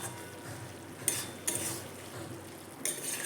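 Gourd and minced meat curry with a pinch of sugar and garam masala is stirred in a pan, giving a soft steady sizzle broken by a few sharp spoon scrapes against the metal.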